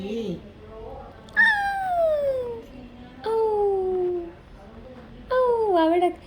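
Three drawn-out, falling meows from a kitten, close and clear, separated by short pauses with faint background sounds.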